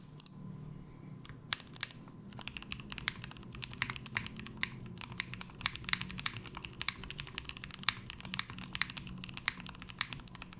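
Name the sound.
typing on an Instant60 keyboard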